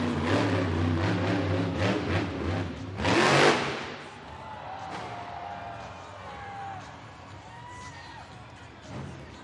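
Zombie monster truck engine revving during a Sky Wheelie attempt at an arena Monster Jam event: a loud engine burst and roar early on, then fading engine drone under arena crowd noise and echoing announcer-like sounds.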